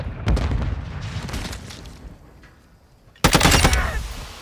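A video-game gunfight: a burst of close automatic gunfire, then a quieter lull before a sudden loud stun-grenade blast with more firing right after.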